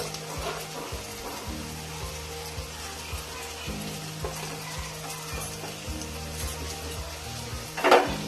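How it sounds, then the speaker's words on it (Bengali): Spices with Kashmiri chili powder, salt and sugar sizzle steadily in hot oil in a pan while being stirred, with a low steady hum beneath and a sharp scrape near the end; nobody speaks. "এবার একসঙ্গে সব মশলাগুলো ভালো করে কষে নেব।"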